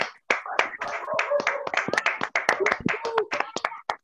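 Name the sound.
audience applauding the speaker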